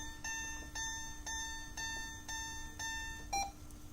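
An Atlas patient monitor's blood pressure alarm sounds a steady series of short electronic beeps, about seven evenly spaced pulses with a final slightly different tone, alone over faint background hum.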